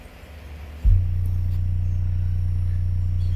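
A deep 30 Hz bass tone from two Sundown Audio XV3 8-inch subwoofers inside a lifted truck's cabin kicks in abruptly after a quiet moment, then holds as a loud, steady, droning rumble.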